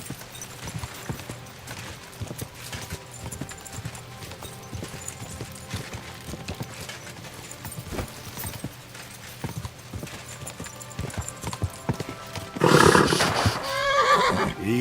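Horse hooves clip-clop steadily at a gallop in the video game Kingdom Come: Deliverance II, with a loud, close whinny bursting out near the end over the running hoofbeats.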